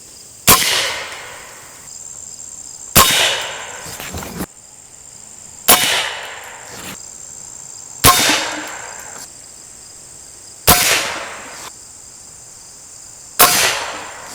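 Six sharp shots from an Airforce Texan SS .357 air rifle striking a cinder block, each a loud crack with a short ringing tail, evenly spaced about every two to three seconds outdoors.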